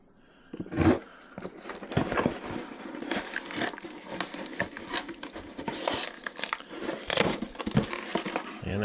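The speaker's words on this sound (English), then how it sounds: "and the first thing you do is you cut the tape." An EDC pocket knife slicing through packing tape on a shipped cardboard box, giving close crunchy scraping and tearing sounds that run steadily with a few louder crackles.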